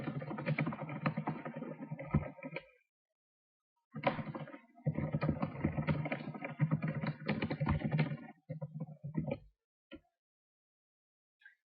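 Rapid clattering keystrokes on a computer keyboard come in two bursts separated by a short pause, close and steady, with no talking.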